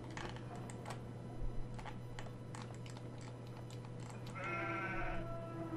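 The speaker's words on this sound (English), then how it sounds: "Two little goats are shivering." In the video game Rule of Rose, two small goats shivering in a cage give a wavering bleat near the end, after scattered faint clicks over a steady low hum.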